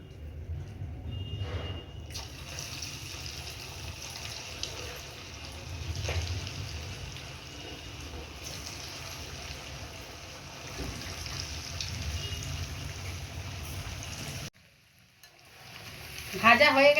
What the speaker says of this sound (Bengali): তেল বসিয়ে দিয়েছি, গরম হয়ে গেছে। এবার আমি চিকেন পকোড়াগুলো ভেজে নেব।